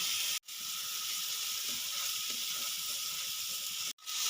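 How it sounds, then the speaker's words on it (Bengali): Onion paste and ginger-garlic paste sizzle in hot mustard oil, a dense, constant close hiss that runs unbroken except for two brief cuts to silence near the start and end. "সর্ষের তেলটা গরম হয়ে গেছে এখানে আমি দিয়ে দেবো চায়ের চামচ থেকে এক চামচ পেঁয়াজ পেস্ট দিয়ে দিলাম"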